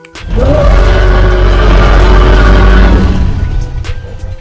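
A custom dinosaur roar effect from a Roblox dinosaur game featuring T. rex, Triceratops and Ornithomimus: one loud, deep, rumbling roar lasting about three seconds, then fading into quiet, with no talking.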